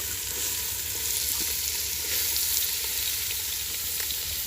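Carrots fry in hot ghee with a loud, steady, close sizzle and crackle throughout, no pauses and no talking, cooked as halwa in a village setting.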